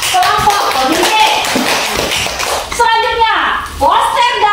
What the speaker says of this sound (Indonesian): tepuk tangan buat kelompok pemimpin